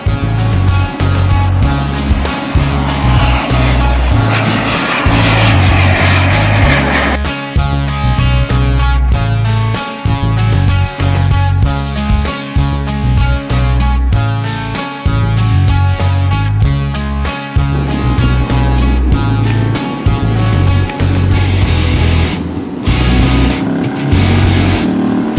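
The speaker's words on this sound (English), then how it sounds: "It's 50 acres dedicated to radio controlled planes and helicopters." A radio-controlled model airplane flies at the Markham Park model airfield, its small engine a loud, buzzing drone whose pitch shifts as it passes, under heavy wind noise.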